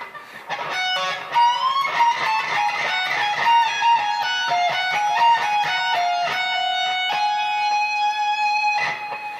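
A distorted electric guitar plays a song's solo, a quick run of sustained, singing notes and bends following one another without pause, loud and close.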